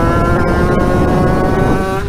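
A YFC 80cc two-stroke dirt bike engine runs steadily at close range, holding a buzzing, even drone with a faint wavering pitch throughout.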